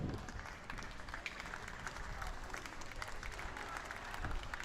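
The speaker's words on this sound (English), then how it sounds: "Warm applause from the crowd." A rugby crowd at a schools festival match applauds warmly, a steady, moderately distant wash of clapping that lasts throughout.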